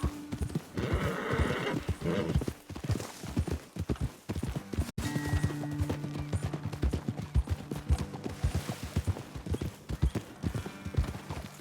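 Horses gallop with rapid rhythmic hoofbeats and whinny in the video game Red Dead Redemption 2, loud and close, with a burst of gunfire-like cracks mixed in.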